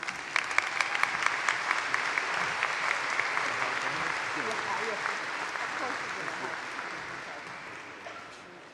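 A commencement ceremony crowd gives a steady round of applause for honorary degree recipients, the clapping dense and even throughout before slowly thinning out toward the end.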